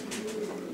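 Racing pigeons cooing in a loft, a low steady murmur of coos running continuously through the short stretch with no talk over it.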